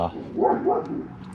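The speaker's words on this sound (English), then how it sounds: "sorry about the dog barking, they're out running around." A dog barks a few times in the distance, muffled yips blending with faint background noise.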